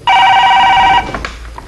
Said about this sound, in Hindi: सुनो मेरी बेटी का फोन लग रहा है, बात करो।